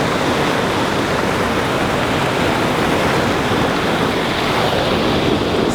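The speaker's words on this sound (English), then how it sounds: "So that was a hidden waterfall out here in Bakersfield, California" A hidden waterfall in Bakersfield, California pours with a constant dense roar of falling water, loud and close, with some wind noise and no voices.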